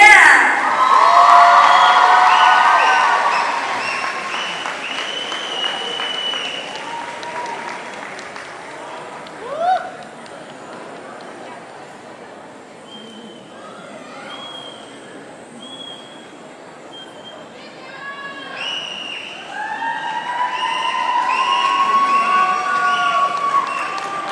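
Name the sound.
crowd applause and cheering for dance award winners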